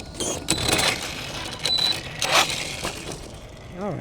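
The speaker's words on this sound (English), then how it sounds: "Yeah, it gets cogging a little bit with this motor in there." An Axial Ryft RC truck's electric motor cogs with a smaller pinion fitted, giving a stuttering mechanical whir of uneven bursts and clicks that ends in a short rising whine, with faint talk underneath.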